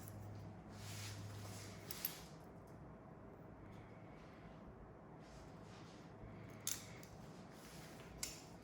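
Scissors snip quietly through short hair near a cowlick, with a few soft, sparse cuts over a low steady room hum.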